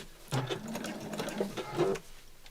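Domestic sewing machine stitching fabric in short bursts of mechanical whirring and needle clatter, close by, with no talk over it.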